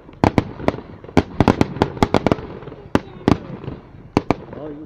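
Fourth of July fireworks exploding in rapid irregular bursts, sharp loud bangs and cracks one after another with a few pauses, close by and dominating, with faint voices in the background.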